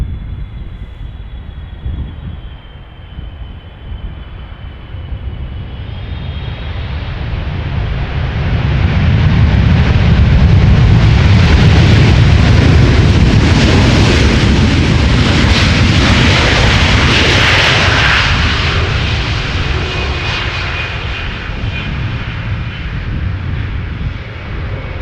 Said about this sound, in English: Arriving from Shanghai, China Cargo Airlines,